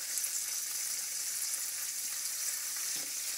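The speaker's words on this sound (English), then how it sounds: "we're going to brown our tofu" Tofu browning in hot oil in a pan for pancit bihon, a steady, even sizzle of frying that holds throughout, close and moderately loud with no voices.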